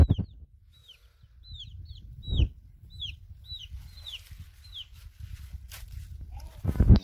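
A chicken chirps repeatedly in short high calls, with clucking and footsteps nearby and a low rustling background.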